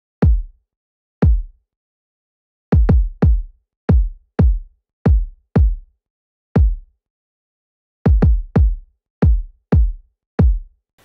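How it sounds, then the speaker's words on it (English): A punchy kick drum plays a simple pattern in a beat, with loud isolated thumps in irregular clusters and short gaps of silence between them. "I found these really punchy kicks that I really like the sound of,"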